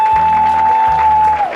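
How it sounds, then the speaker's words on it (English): Wedding guests clapping for the bride Holly, a brief burst of applause over a steady tone and background music. "let's have a round of applause for Holly"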